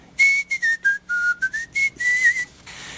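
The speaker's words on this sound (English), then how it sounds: "And whistle." A person whistles a short, halting tune of quick separate notes, clear and close, alone.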